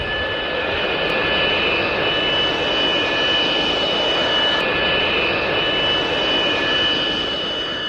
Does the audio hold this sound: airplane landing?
yes